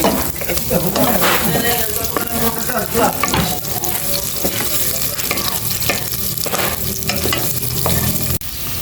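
Garlic and onion sauté in a hot pan with steady, loud sizzling and frying crackle, broken by stirring scrapes and clatter, with brief water or tap-like splashes, close and continuous with no talk.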